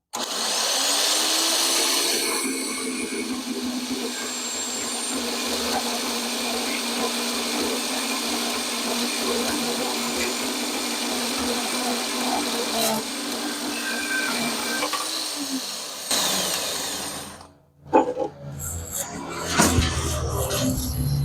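A portable variable-speed bandsaw cuts through metal for a trailer jack handle repair, a steady whining, grinding drone that runs for about fifteen seconds before winding down, followed by handling clatter.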